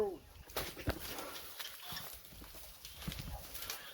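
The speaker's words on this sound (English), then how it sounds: "the horse goes around in a circle" A horse plods around a circular track driving an old sugar cane mill in rural Jamaica, soft hoofbeats close by, with someone talking over the quiet outdoor scene.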